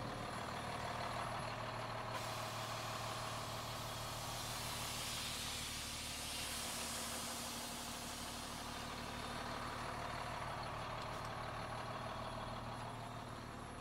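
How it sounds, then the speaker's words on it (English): A 2024 Hino rollback flatbed tow truck with a Cummins turbo diesel and Jerr-Dan bed lets air out of its air-ride suspension. A long, steady, loud hiss runs over the idling engine throughout. "I'm going to turn the lights on and dump the air ride"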